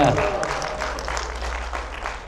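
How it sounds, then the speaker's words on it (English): Audience applause during a talk on 1960s and 1970s Pakistani cinema music: a steady crowd of hands clapping for a couple of seconds, fairly close, with a brief voice at the very start. "we can clap for that."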